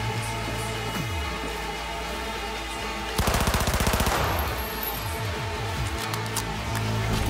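Sustained automatic gunfire from a weapon firing at a turret in the video game Cyberpunk 2077, a dense rattling burst of about a second over a steady game soundscape.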